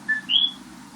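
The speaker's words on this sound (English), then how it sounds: "Somebody's got a bird in the background." A bird chirps in the background with two short, clear whistled notes, the second higher and longer, over a steady low hum.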